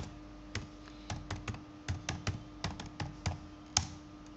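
Keys tapped on a computer keyboard in irregular bursts of clicks with short pauses, fairly close and moderately loud, with no voices.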